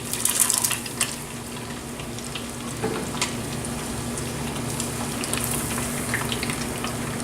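Sausages fry in hot oil with a steady crackling sizzle, loud and close, sharp pops and spits at the start and now and then throughout.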